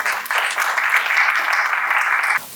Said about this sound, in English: Now with a round of applause we call upon a President of Ilangai Tamil Sangam, Mr. Balan Balasingam, to the podium please.